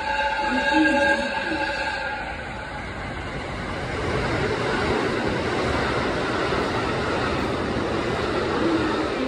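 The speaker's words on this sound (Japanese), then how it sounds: "3番線を列車が通過いたします。" A JR Hokkaido train rumbles steadily past track 3 at a station, a broad continuous roar, with a recorded Japanese platform announcement sounding over it at the start.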